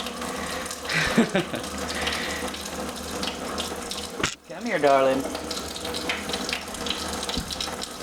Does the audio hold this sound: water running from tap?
yes